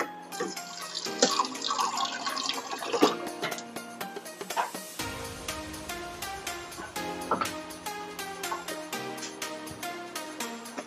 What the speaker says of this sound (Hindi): इसमें जार में पानी डाल दिया,